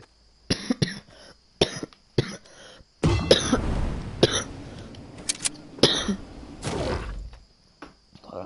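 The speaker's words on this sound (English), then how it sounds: "I coughed too hard." Hard coughing by a man, a series of sharp, loud, close coughs in bursts with throat-clearing, some clustered fits and brief pauses between them.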